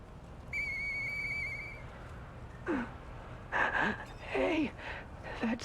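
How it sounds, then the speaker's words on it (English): A clear, sustained whistle blown in the video game Lies of P rings out near the start, holding a steady pitch for about a second before fading, followed by short voiced exclamations. "Hey, that sound. Can. Is that you, Murphy? I know that whistle."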